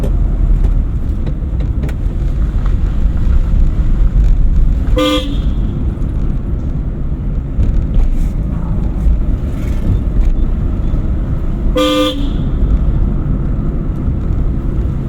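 During a driving-school lesson, a car horn gives two short, sharp honks several seconds apart over constant loud engine and road noise heard from inside the vehicle.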